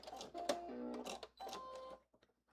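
A sewing machine runs a blazer sleeve seam in short mechanical bursts, with a pause partway and tapering clicks at the end as it back stitches, close by and with no voices.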